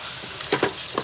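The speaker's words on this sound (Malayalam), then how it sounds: "നല്ലോണം മിക്സ് മൊത്തത്തിൽ ഒന്ന് മിക്സ് ചെയ്യാൻ ഇളക്കണം. ഇളക്കി എല്ലാം കൂടി സെറ്റാക്കാം." Pork masala frying with curry leaves in a pan, a faint sizzle under a few quick stirring scrapes and clicks close by, no talking.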